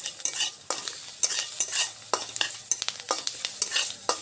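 Green chillies fry in hot oil while being stirred, with continuous sizzling and spattering broken by repeated scraping taps of a utensil in a rough, uneven rhythm, close and with no talking.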